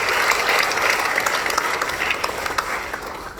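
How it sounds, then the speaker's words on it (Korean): A church congregation applauds its praise team after worship, a full, close round of many hands clapping that holds steady and then gradually thins out, without speech. "우리 박수로 한번 격려하겠습니다."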